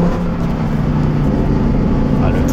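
A Lamborghini Huracan Tecnica V10 engine drones steadily with a deep rumble from close by, while a person talks over it.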